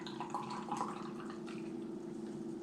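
Beer pouring from a can into a glass, a steady liquid splash and fizz running continuously at moderate level with small drip-like accents, heard alone.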